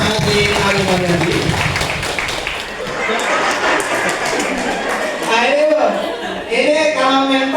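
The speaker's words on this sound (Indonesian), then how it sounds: "Sekali lagi tepuk tangan yang luar biasa sampai Bapak Ari Maryadi" Indonesian business-program audience clapping and tapping, a dense steady patter running the whole time, mixed with a speaker's amplified voice and some chuckling over it.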